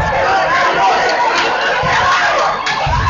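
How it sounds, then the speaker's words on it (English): Loud, dense crowd noise at a high school basketball game, a continuous roar of cheering and shouting voices filling the gym, with no pauses across the whole stretch. "the crowd has been very loud"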